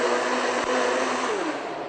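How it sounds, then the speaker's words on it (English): A kitchen blender whirs steadily while making coconut meringue, a loud continuous motor whine with a brief bump midway and the pitch sliding down as it winds toward the end, with no talking. "You don't have to go forever with your blender."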